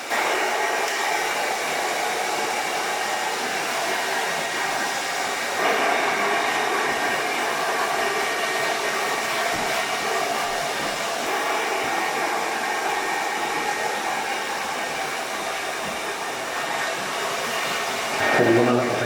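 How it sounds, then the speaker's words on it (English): A hair dryer blows steadily and close throughout while finishing a haircut, a constant whooshing hum with slight shifts in pitch and airflow. "You can even put the hairdryer underneath, the head down"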